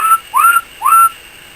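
Three short tones whistled into the microphone of a Cobra 2000 GTL CB radio, the last two rising then holding steady, clear and close with faint background hiss between them.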